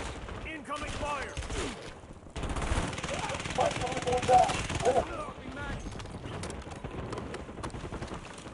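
Rapid automatic gunfire rattles in bursts during a Call of Duty battle-royale match on Rebirth Island, dense and continuous with sharp cracks, mixed under game voice callouts and background clatter.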